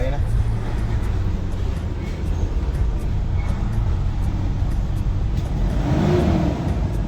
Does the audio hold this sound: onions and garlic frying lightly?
no